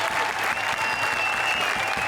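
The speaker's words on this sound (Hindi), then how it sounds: "जोरदार तालियां फॉर आवर 3 जजेस।" A studio audience at a comedy show bursts into steady, sustained applause for three judges, many hands clapping together at moderate loudness with a thin tone drifting above.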